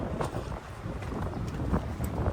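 Gusty wind roars across the microphone, a steady low rumble with louder bursts, heard alone without talk, outdoors in Intramuros, Manila.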